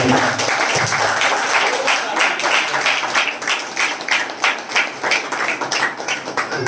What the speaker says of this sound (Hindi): एक जोरदार ताली पवित्र आत्मा की।